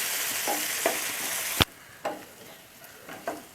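Ginger garlic paste sautéing in a pan for pepper chicken: a loud sizzle cuts off abruptly, then quieter frying continues with soft spatula scrapes and taps at intervals, close and without speech.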